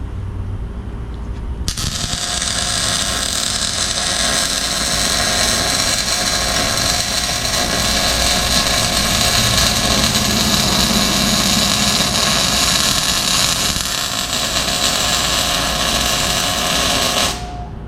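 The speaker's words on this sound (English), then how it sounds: "We're also going to weld the axle tubes." Welding on leaf spring perches and axle tubes during a Ford Explorer 8.8 axle swap into a Dodge Dakota, a loud steady crackling buzz that starts abruptly, runs unbroken for about fifteen seconds, then cuts off.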